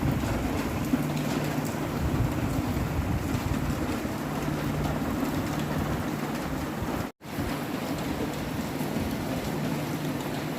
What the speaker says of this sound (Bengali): চারিদিকে এত বৃষ্টি হচ্ছে